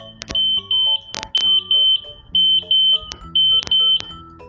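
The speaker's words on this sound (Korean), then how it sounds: "이 타입은 여기를 막아버리면은 이렇게 알람이 울립니다." A gas detector on an LNG ship sounds its alarm with the gas outlet blocked, giving loud, repeated high-pitched beeps in short bursts, broken by a few sharp clicks and knocks nearby.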